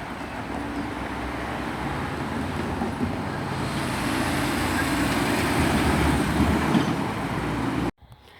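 A Class 155 diesel multiple unit train pulls away from a station platform beside a level crossing, a steady loud rumbling roar that builds slightly before cutting off abruptly.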